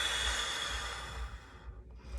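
A slow, soft exhale while relaxing tensed muscles, a quiet breathy hiss that fades away over about two seconds against faint low background rumble.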